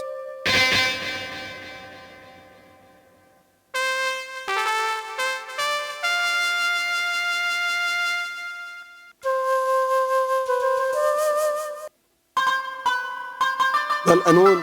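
Flute voice played on a mobile keyboard organ app: sustained, breathy tones in separate phrases, some held notes and quick runs, with abrupt silences between sections and no talking.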